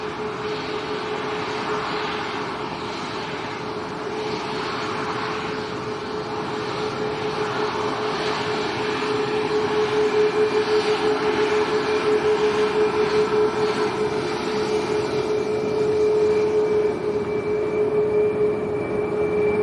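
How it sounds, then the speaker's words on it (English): Ryanair Boeing 737 MAX 8 jet airliner at Lanzarote Arrecife Airport, a steady loud engine roar with a sustained whine that swells slightly in the second half, continuous throughout with no talk. "So this is Ryanair to Madrid. A max 8."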